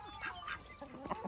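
A free-range farm rooster clucks several times in short bursts close by, fairly quiet, with no voices over it.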